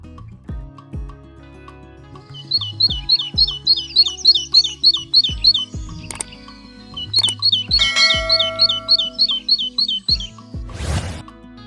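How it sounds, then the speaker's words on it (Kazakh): Sparrow chirping in two long runs of quick, bright, evenly spaced chirps, loud and close, over steady background music, with a short noisy burst near the end. "Шымшық"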